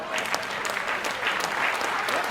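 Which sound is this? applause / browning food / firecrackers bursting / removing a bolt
applause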